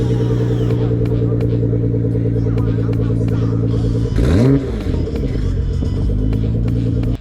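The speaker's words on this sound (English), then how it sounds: "Listen to this quad exhaust." Sports car with a quad exhaust at a Cars & Coffee meet, idling with a deep, steady burble before a sharp, loud rev blips up and falls back, then settles into idle again, close by and with voices around.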